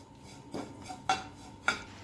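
Coconut and poppy seeds roasting in a pan for panjari, heard as a few light metallic scrapes and clinks of a spoon against the pan spaced over two seconds, fairly quiet, with no talking.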